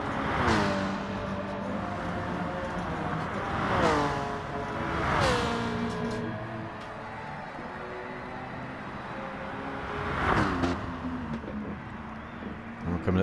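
BMW race car engines in a racing video game, several cars roaring past in swelling whooshes with engine notes rising and falling, under continuous commentary.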